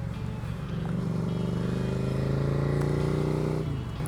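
Suzuki SV 650 motorcycle riding down a slippery mountain road, its engine a steady loud drone that swells slightly as it holds speed, then dips near the end.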